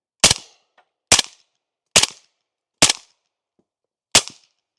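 Five sharp gunshots from a Q Honeybadger rifle, evenly spaced about a second apart, each a loud close crack with a short decay into silence.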